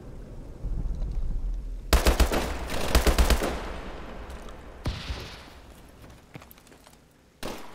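Loud bursts of rapid automatic gunfire from the video game Call of Duty: Advanced Warfare, with several dense volleys close together and a short final burst after a quieter stretch.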